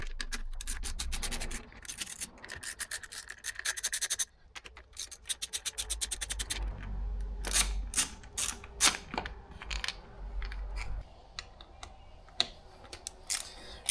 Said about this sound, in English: Starting with a T27 Torx bit, let's go and uninstall these bolts.